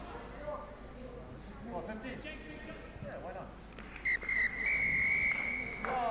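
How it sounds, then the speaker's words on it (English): A referee's whistle sounds at full time in a friendly rugby match between Dragons and Scarlets, a shrill blast and a longer second tone rising over crowd noise and commentary. "I think he's blown the whistle here."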